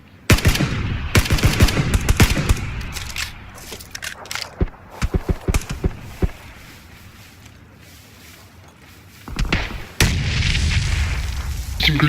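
Video game gunfire in a multiplayer shooter: rapid automatic bursts and single sharp shots, loud and close, with bangs scattered across the stretch and a steady rumbling battle ambience toward the end.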